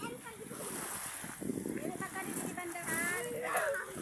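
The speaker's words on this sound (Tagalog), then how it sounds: "ang lakas ng agos ng dagat guys oh" Strong sea current and waves wash and splash continuously at a beach, a steady noisy surge with brief splashes, while someone talks over it throughout.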